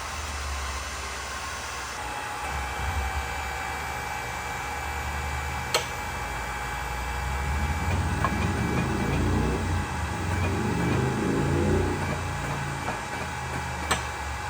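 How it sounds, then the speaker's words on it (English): A JD Squared Model 4 tube bender's hydraulic ram backing off, a steady mechanical hum and hiss under a constant noise bed, swelling into a louder low rumble partway through, with a few sharp ticks. "So now we can back the ram off."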